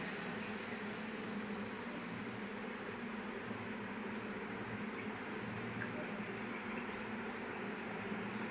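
Mung dal fries in hot oil, a steady soft sizzle and bubbling that holds evenly from start to finish without speech.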